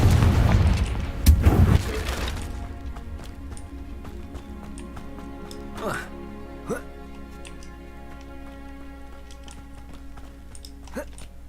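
A Confringo fire-blast spell goes off in Hogwarts Legacy with a loud, rumbling burst of two or three crackling booms up front, then fades to a quiet ambient hum with scattered light ticks.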